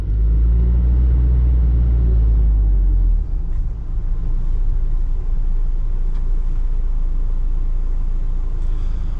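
A 1995 Isuzu Elf diesel work truck pulls away slowly, its engine giving a loud, low rumble that eases into a steadier, duller drone as it gains speed, with no talking over it.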